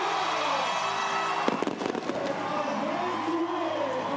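Fireworks going off at a CrossFit competition finale, a sudden burst of sharp crackling bangs over a busy arena crowd and a steady music bed.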